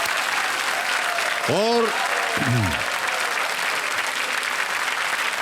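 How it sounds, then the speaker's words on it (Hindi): Studio audience applause on the Hindi TV quiz show KBC Season 11 rolls on steadily and fairly loud, while a brief voice cuts in partway through. "एक बार तालियों के साथ इनका हम अभिनंदन करते हैं"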